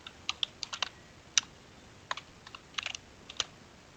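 Someone types on a computer keyboard, filling in an account sign-up form. Irregular clicks come in small bursts with short pauses, close and clear in a quiet room with no voices.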